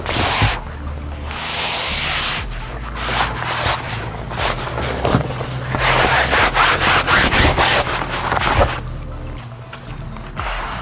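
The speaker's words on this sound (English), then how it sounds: "Once your barrel is ready to go, you can put the lid on and throw the cover over top." A lid and a fabric cover go onto an ice barrel in a series of close, loud scraping and rubbing sounds with a few sharp knocks and rustles.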